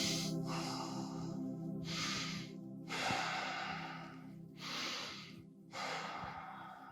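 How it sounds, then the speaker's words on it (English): Slow, steady breathing in a yoga pose, long airy inhales and exhales alternating in an even rhythm, close and soft with no talk. "Nice, smooth breaths."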